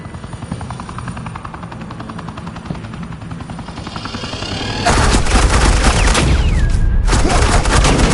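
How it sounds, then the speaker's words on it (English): Suppressing gunfire in the Batman Telltale video game bursts in loud and dense halfway through, a sustained rattling fusillade over a steady rumbling game background, with a helicopter-like drone underneath. "Suppressing fire."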